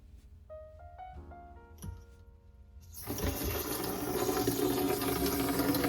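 A bathroom faucet water line is opened and water bursts through with a loud, steady rushing hiss after a few seconds of faint tones and clicks, then keeps running strongly to the end.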